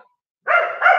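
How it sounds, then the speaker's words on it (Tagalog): A dog gives a loud, close bark in answer to a spoken command, a single sustained bark after a moment of quiet, standing alone with no talk over it. "Tahol ka muna."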